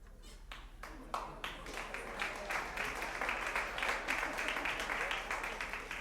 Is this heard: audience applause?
yes